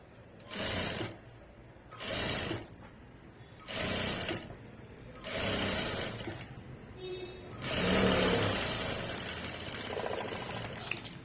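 A sewing machine stitching a side joint in fabric, running in five or six rhythmic bursts of rapid mechanical whirring separated by short pauses, close and clear, the last run longest.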